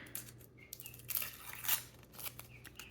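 Papery outer skin peeled and torn from an onion in a kitchen, a faint, close crackling rip with a brief louder tearing burst in the middle, over a low steady hum.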